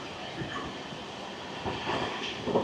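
The Kanchanjunga Express, running at 110 along the Bardhaman chord line, rushes past with a steady, dense rumble and roar, rising slightly toward the end, heard close and without talk.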